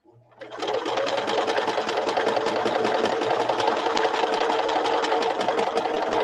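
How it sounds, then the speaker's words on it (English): A sewing machine back-stitches and then runs up the side seam of a fabric clutch, a close, loud, continuous whirring drone that starts abruptly after a brief quiet moment and holds steady throughout. "Put your foot down and then back stitch and then just sew up the side."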